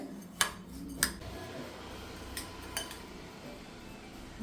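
Rice being mixed with ghee in a pan, with a few sharp clinks of a utensil against the metal and soft stirring between them, close and without talk.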